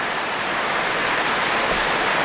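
Rain pouring off a roof edge and splashing onto a table below, a dense, continuous hiss of water close by with no pauses.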